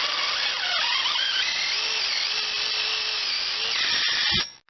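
Electric drill with a special fitting driving through a steel polytunnel frame, a steady high whine held for about four seconds before stopping abruptly.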